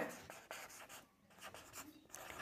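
Writing strokes on a classroom board during a Bengali grammar lesson: quick, close scratchy bursts with short pauses between words and no voice.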